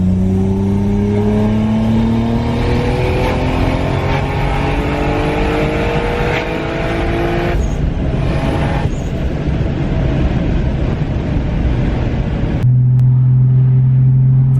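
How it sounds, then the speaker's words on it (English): A 700whp Toyota Supra accelerates hard at full throttle, heard from inside the car as a loud, continuous engine roar whose pitch climbs steadily through the revs, drops briefly at a shift, then climbs again. "Floor it, go ahead, just hold it forward."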